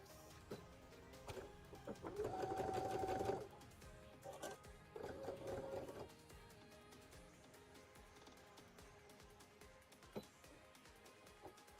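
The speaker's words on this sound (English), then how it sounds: "I'll finish sewing this down." A sewing machine stitching fabric runs in two short motor bursts, a hum with a steady whir, quiet and close, with small handling clicks and taps between runs.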